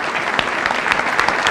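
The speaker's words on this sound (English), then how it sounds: "Let's give Evan a round of applause." An audience at a club luncheon claps for a 15-year-old boy, a brief burst of dense, moderately loud applause from a roomful of people.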